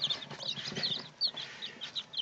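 Chicks cheep and cluck in quick, high, soft bursts close by, several calls overlapping with no speech.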